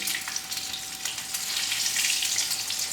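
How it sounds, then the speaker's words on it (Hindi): Chicken, chana dal and potato shaami kababs fry in hot oil with a steady, close sizzle and crackle that runs unbroken throughout, with no talking. "एक साइड से गोल्डन हो चुकी हैं, अब इनकी साइड तब्दील करते हैं।"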